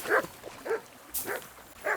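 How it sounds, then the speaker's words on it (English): A dog in the medieval game Kingdom Come: Deliverance 2 gives four short, evenly spaced barks, close and moderately loud, with a brief hiss between them. "What are you barking at?"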